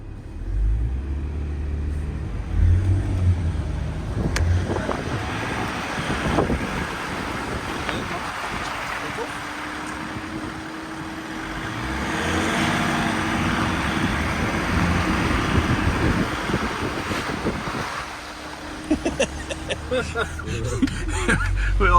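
An INEOS Grenadier production 4x4 drives on the road with a steady engine and road drone, wind buffeting the cabin, and people talking inside over it throughout.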